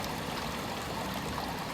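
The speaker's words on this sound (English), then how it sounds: "It is peaceful listening to the sounds of the river flowing from the gates of the dam" River water rushing out from hydroelectric dam gates, a steady, dense flowing roar with no breaks, heard on its own at moderate level.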